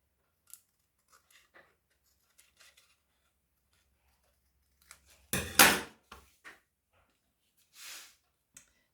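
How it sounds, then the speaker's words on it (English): Long scissors cutting, heard as one sharp, loud close snip after a few faint clicks and taps, then a softer brushing rustle. "using long scissors, I'd probably actually be better off with some little snippy scissors"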